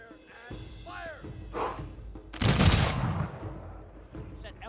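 Units fire in the strategy game Humankind, a loud burst of massed gunfire like a musket volley cracking out midway, with shouted commands and other game voices around it.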